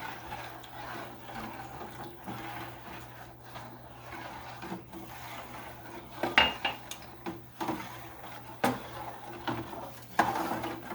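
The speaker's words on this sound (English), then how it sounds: "what you do is you just stir this all together so it combines nicely" Spoon stirring gravy thickened with cornstarch in a pot, heard as soft scraping and intermittent clinks of utensil against metal under a low steady background hum, fairly quiet and close.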